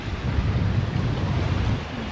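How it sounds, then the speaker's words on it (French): Wind gusts blow across a sailboat on a solo passage near Guadeloupe toward St Martin. The gust is a steady, broadband rush with a low rumble of wind on the microphone and water sounds beneath it, and no talk. "Je sais que ce sont que des rafales, que ça va pas durer."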